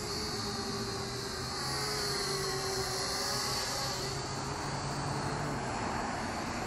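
Eachine E56 selfie drone in flight, propellers producing a continuous steady whirring whine with a droning hum underneath, close and constant throughout.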